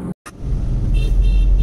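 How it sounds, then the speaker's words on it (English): A car drives on the Mumbai–Pune highway in early morning traffic, a steady loud rumble of engine and road noise after a brief cut to silence near the start. "ये जो ट्रैफिक आप देख रहे हो, ये बेसिकली मॉर्निंग 7 o'clock ट्रैफिक है।"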